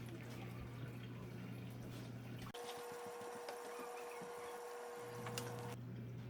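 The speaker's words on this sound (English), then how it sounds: "gallons of water, not store-bought well water, are just going to be poured slowly back in" Well water poured slowly from a gallon jug back into a freshwater aquarium, a soft steady splashing trickle heard close and alone over a low background hum.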